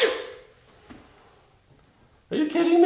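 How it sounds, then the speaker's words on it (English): A single person sneezes loudly right over a chuck roast being seasoned for wild bison French dip sandwiches in an Instant Pot, a sharp burst that fades, followed by a voice reacting. "You just sneeze on the roast?"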